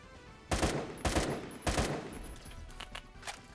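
Gunfire in an FPS video game: three loud, sharp bursts of rapid shots about half a second apart, followed by fainter scattered shots.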